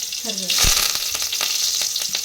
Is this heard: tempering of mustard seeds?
yes